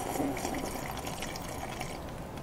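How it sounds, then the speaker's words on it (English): A person takes a close sip of water, a brief wet, slurping and gurgling sound with a breathy, noisy texture lasting a couple of seconds. "Gonna take a sip of my water."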